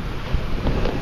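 Breezy wind buffets the microphone on a beach beside a sand-filled sea cave, a steady low rumble with gusty swells and no talking.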